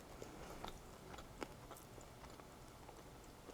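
Crunchy chewing of crispy coated high-protein beans: quiet, close-up bites with a few sharper crunches scattered over a low background hiss, no talking.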